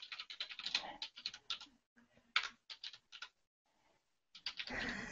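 Bursts of typing on a computer keyboard, quick clusters of sharp clicks broken by short pauses, close and fairly quiet, with a brief rustle near the end.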